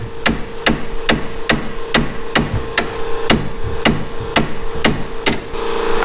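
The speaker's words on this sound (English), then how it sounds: "I'm gonna go grab a hammer and see what happens" Steady hammer blows strike metal on a Subaru SVX being lowered, about every half second, sharp ringing clanks repeating close and loud over a low background hum.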